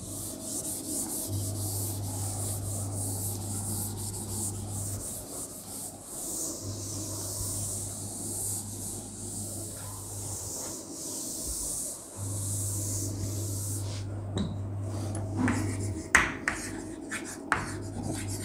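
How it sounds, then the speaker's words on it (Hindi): Chalk or marker rubbing across a classroom board as a chemistry teacher writes, steady scratchy strokes with brief pauses, close and fairly quiet with a low electrical hum underneath. "चलिए लिखते हैं।"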